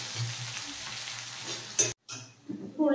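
Chopped small shallots frying in oil until brown for a Kerala raw mango pulissery, a steady close sizzle with a brief stir and a short gap near the end, no talking.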